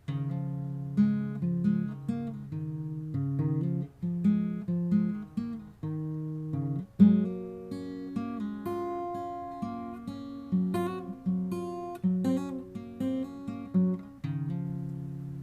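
Fingerpicked acoustic guitar plays a gentle melodic passage alone, individual plucked notes ringing clearly in a steady, unhurried rhythm.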